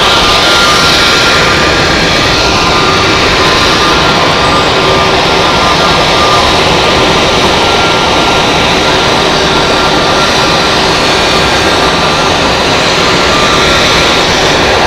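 An Edelweiss Air jet airliner in Help Alliance livery roars close by at Zurich Airport, a loud continuous engine rush with steady high whine throughout.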